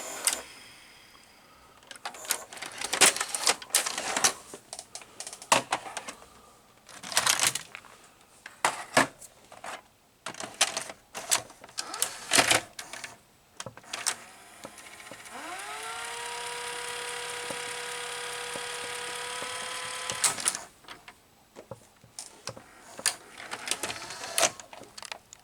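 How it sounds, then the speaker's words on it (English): An RCA VR535 VCR's front-loading mechanism unloads a cassette tape: scattered clicks and clunks, then a steady whirring motor hum that rises in pitch and runs several seconds before stopping, close and fairly quiet. "turning off the VCR will unload the tape"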